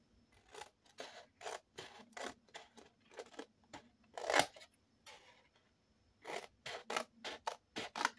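Scissors snip repeatedly while cutting out squares for a Christmas market box, with quick bursts of close, crisp cuts separated by short pauses and no speech.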